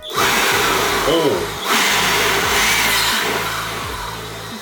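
A DINSHARE JC-7001 20V cordless blower runs in vacuum mode with a steady motor whine and airflow, close and loud, with a voice talking over it.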